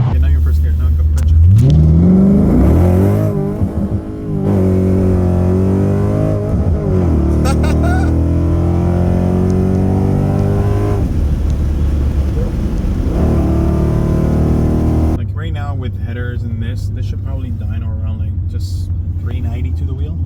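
A car fitted with American Racing headers accelerates hard in first gear, its loud engine note rising steadily and holding strong for most of the stretch, with people talking over it near the end.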